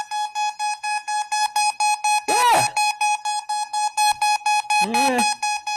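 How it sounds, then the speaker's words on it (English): A rapid electronic beeping tone pulses steadily and loudly while moving past to show a Doppler pitch shift, with two brief sweeping tonal sounds breaking in partway through. "whether the beep sounds like it's getting higher and lower in its pitch."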